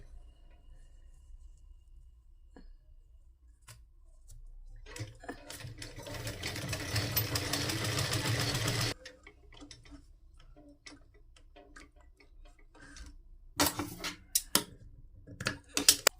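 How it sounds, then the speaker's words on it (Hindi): A sewing machine runs steadily for about four seconds, stitching salwar fabric with a half-inch seam gap, then stops. Scattered ticks and handling clicks follow, with a cluster of sharper taps near the end. "सीधा रखते हुए हम इस पे सिलाई लगाएंगे। हाफ इंच का गैप लेते हुए सिलाई लगाएंगे।"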